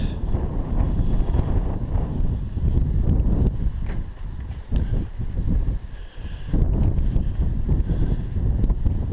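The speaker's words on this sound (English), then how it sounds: "Sun came out, still pretty windy, as you can see." Strong wind buffets the microphone in loud, rumbling gusts that swell and ease, with a brief lull in the middle before roaring back.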